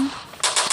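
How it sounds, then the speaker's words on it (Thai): Three quick, sharp gunshot bursts fire in rapid succession after a brief muffled lull, loud and close, from the video game Free Fire. "นี่เสียงปืน"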